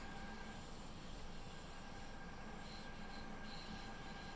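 Train pulling out of Starnberg station from platform 4, its wheels squealing in a steady high-pitched screech over a continuous rumble of rolling stock, close and sustained throughout with no talk.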